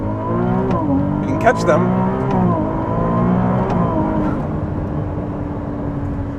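Ferrari 296 V6 hybrid accelerating, its engine note climbing in pitch, dropping at a gear change, then rising again, close and steady beneath a voice speaking from inside the car.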